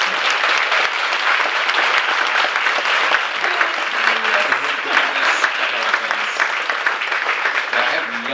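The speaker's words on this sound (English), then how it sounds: "Can we actually clap?" Audience at a charity concert clapping, loud and close, a continuous even burst of applause that carries through without pause.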